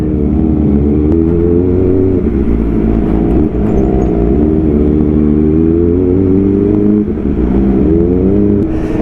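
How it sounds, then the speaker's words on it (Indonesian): Kawasaki ZX25R motorcycle with an Arrow exhaust revving hard up close, a loud raspy four-cylinder howl rising and falling through repeated throttle blips. "Jadi kerasa vibes-nya kalau pakai ZX tuh pas pakai knalpot bacot gini cuy"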